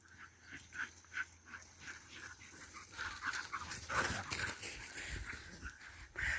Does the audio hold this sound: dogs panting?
yes